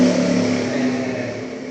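A car polishing machine runs steadily on a BMW, giving a continuous motor whine with a strong low hum. It holds an even speed and sits close and loud, with no voices.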